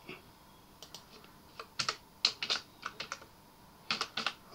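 Keys clack on a computer keyboard while Python code for a factorial function is typed, giving irregular bursts of close, crisp keystrokes with short pauses and no talk.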